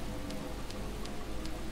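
Rain falls steadily in the Deadly Premonition video game, a faint, even hiss of drops on a surface with a few soft periodic ticks.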